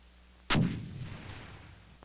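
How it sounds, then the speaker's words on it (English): A single sharp, heavy supersonic boom from an aircraft cracks out suddenly, then rumbles and fades over about a second and a half. "Wherever the percussion wave hits the ground, the supersonic boom can be heard."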